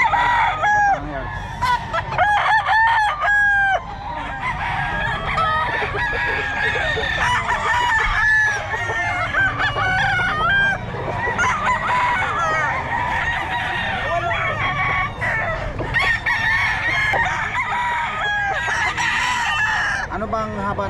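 A Lemon Sweater gamefowl rooster crowing repeatedly and loudly nearby, with other roosters and hens clucking and crowing all around in a busy farmyard chorus.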